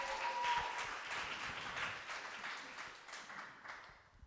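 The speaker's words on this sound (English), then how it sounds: "With a round of applause, please." Audience applause for musicians Izik and Imua Garza at an artist talk, a dense wash of many hands clapping that swells early, holds steady, then thins toward the end.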